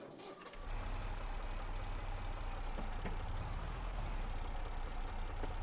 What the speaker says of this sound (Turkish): Bu da güzel traktör.